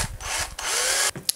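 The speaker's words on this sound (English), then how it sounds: "I usually just drill a pilot hole, what I think the angle should be, and then I try to match it with the drill on the other side." A power drill bores a pilot hole in a wooden frog popper fishing lure, giving two short, close bursts of whining drilling with a brief pause between them, and no talk.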